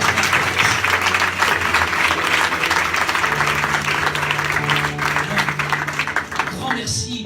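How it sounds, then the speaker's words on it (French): Loud, sustained applause from a church congregation at a sermon fills the whole stretch, with a voice and background music running underneath before it tapers at the end. "j'aimerais qu'on fasse un tonnerre d'applaudissements"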